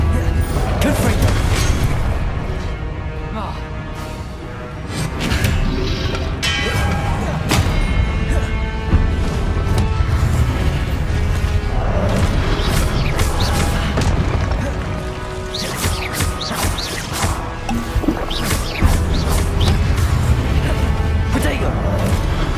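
Confringo blasting-curse explosions in the Hogwarts Legacy video game, repeated booming impacts and crashes in a dense, loud battle mix with game music and voices throughout.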